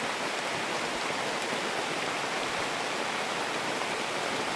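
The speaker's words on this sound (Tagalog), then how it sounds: "Yun, lakas ng ulan." Heavy rain pours down outdoors while someone shelters nearby, a dense, steady wash of noise with no break.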